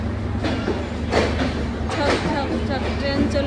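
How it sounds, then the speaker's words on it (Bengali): A passing train rumbles and clatters close by with rhythmic rail knocks and wheel noise throughout, while a person talks over it. "এই যে ট্রেন যাচ্ছে"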